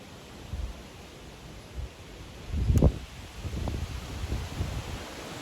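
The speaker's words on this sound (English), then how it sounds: "The wind's blowing my bow around a little bit" Gusty wind blowing outdoors in Montana, a steady low rumble of microphone buffeting with a stronger gust swelling midway, then continuing in uneven bursts.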